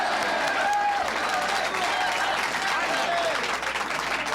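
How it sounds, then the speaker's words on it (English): A studio audience at a 1984 talk show breaks into steady, dense applause lasting throughout, with voices talking over the clapping. "Give me a nice round of applause"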